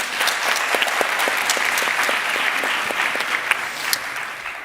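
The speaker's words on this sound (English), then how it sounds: "Rafa, Renas, this is your applause." Audience applause for panelists at a livestream news discussion event, a continuous patter of many hands with a few sharper individual claps standing out, heard alone without talk.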